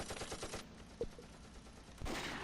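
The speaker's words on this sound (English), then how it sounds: "machine gun fire" Machine gun fire in the Close Combat war game, set at the second battle of Belgorod near Kharkov, crackles as several short rapid bursts, fairly distant and low in level, with a sharper crack about halfway through.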